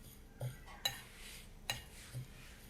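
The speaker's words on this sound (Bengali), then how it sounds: "একটু চামচ দিয়ে মশলাটা মিশিয়ে নিচ্ছি।" A spoon stirs a packet of Maggi spice mix through crushed dry noodles, giving a few faint, separate scrapes and light clinks against the bowl at an unhurried pace, quiet and close, with no voices.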